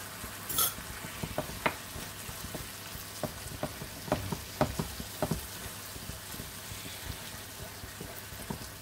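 A spoon stirs tomatoes in a frying pan for moussaka, giving soft scrapes and light taps over a steady low sizzle, with scattered clicks through the middle of the clip and nobody speaking.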